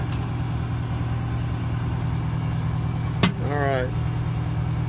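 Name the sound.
American LaFrance pumper fire engine idling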